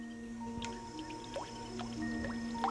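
Water drips at the source of the River Nile in the remote uplands of Central Africa, with single drops landing at irregular intervals against a steady low background hum.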